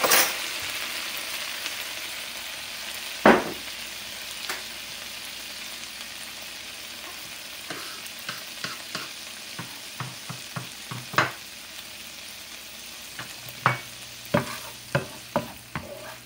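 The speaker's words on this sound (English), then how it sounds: "you take your wine, put that in the pan. And you're going to cook that off." Shrimp shells and wine sizzling in a hot pan, a steady close hiss broken by many sharp clicks and taps of a utensil stirring, more frequent toward the end, with no one speaking.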